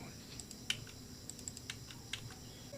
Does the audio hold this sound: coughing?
no